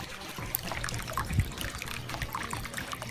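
Water trickles very slowly and steadily in a hydroponic raft growing system, a soft continuous dribble heard close up with no talking.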